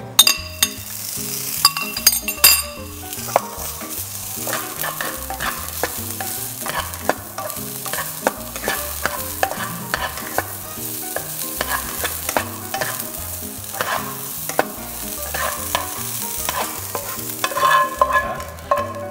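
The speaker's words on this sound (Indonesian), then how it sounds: "Menggoreng." Vegetables frying with a little oil and a pinch of salt, stirred steadily in a pan: continuous close sizzling under busy scraping and clinking strokes throughout, with no talk.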